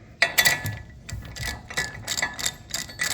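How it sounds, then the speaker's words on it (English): Bolt being tightened on an electric bike rack with a ratchet, giving a series of sharp, close clicking strokes in an uneven rhythm, about a dozen in three seconds. "So we're going to tighten this all the way up"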